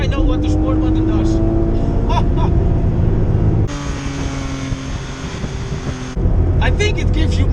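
A Porsche GT3 RS engine accelerates in sport mode, a loud, steady close-up drone inside the car that drops in tone for a few seconds before surging again, with voices talking over it.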